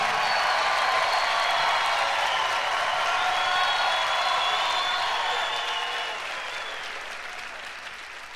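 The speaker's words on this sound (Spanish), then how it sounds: "Un aplauso para Ray, por favor." A live concert crowd applauds loudly, a dense, sustained wash of clapping that holds steady and then gradually fades toward the end.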